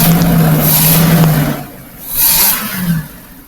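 The engine of a 1994 Holiday Rambler 460 motorhome revs up, a steady low drone giving way to two loud surging bursts with a brief dip between them, heard up close with no voices.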